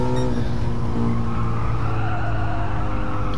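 Tire squeal from a Ford Shelby GT350R on Sports Hard tires losing traction in a racing video game, a continuous loud screech over the engine's steady roar.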